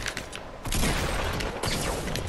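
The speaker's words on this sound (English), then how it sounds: "Two pump shots." Pump shotgun blasts in a Fortnite Battle Royale match, loud dense bursts of gunfire in quick succession amid chaotic game action, with no talk over them.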